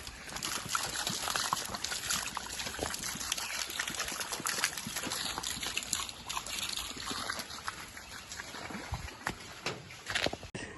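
Spring water trickles steadily beside a mud house in the jungle, a close, continuous splashing dribble with irregular small clicks and bursts, no clear voices.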